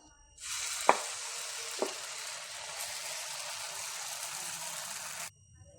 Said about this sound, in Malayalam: ദോശക്കല്ല് ചൂടാകുമ്പോൾ എന്നിട്ട് നമുക്കതിലേക്ക് ദോശമാവ് കോരി ഒഴിച്ചു കൊടുക്കാം.